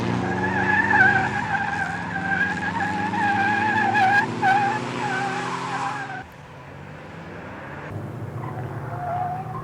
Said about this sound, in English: learn to control the car in very adverse situations, such as front wheel or rear wheel skids